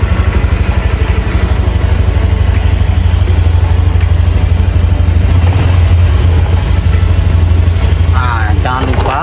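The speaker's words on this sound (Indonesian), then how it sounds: "tekan rem belakang, tekan ini starter, selesai, maka mesin akan hidup." A Honda Vario scooter engine runs at a steady idle after starting, a loud, close, even buzzing putter with rapid regular firing pulses that continues throughout, with brief speech near the end.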